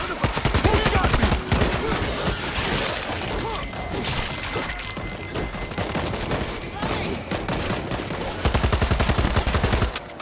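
Heavy gunfire in the zombie shooter World War Z Aftermath: dense rapid bursts of shots and impacts crackle nonstop, loud and close, with heavier volleys at the start and end.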